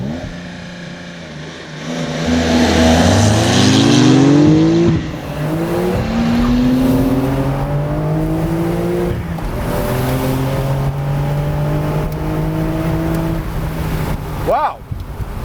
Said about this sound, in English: For a manual transmission vehicle, that is a spectacular launch control system.